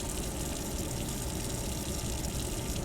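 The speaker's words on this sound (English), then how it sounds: "where's my watering can? I want to water them" In the game Strange Horticulture, a watering can pours over potted plants as a steady, even rush of running water that holds at one level for the whole stretch with no talking.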